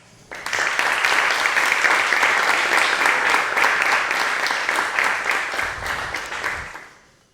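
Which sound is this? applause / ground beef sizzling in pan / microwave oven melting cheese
applause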